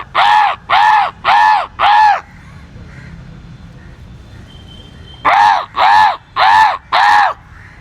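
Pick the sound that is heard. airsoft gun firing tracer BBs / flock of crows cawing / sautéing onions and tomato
flock of crows cawing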